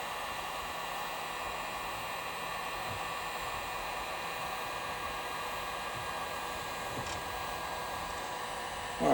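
Heat gun warming car undercoating ahead of the scraper, a steady faint airy whoosh with a constant hum, unchanging for the whole stretch.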